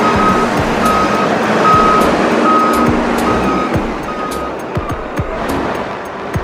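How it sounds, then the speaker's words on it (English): A large truck works through narrow snowy streets, its reversing beeper pulsing in steady evenly spaced tones over a loud engine rumble, with scattered clunks and knocks near the end. "Keep moving, you big lug of a truck."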